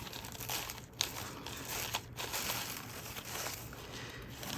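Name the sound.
unwrapping card packaging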